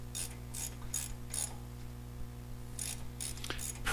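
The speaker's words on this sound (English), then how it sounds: "you can tighten down your 13mm bolts on the other side of the caliper" A ratchet wrench tightens 13mm brake caliper bolts on a 2009 Audi A4 B8, giving short bursts of rapid metallic clicking in a quick repeating rhythm, close and clear with no talk.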